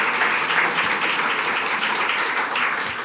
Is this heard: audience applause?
yes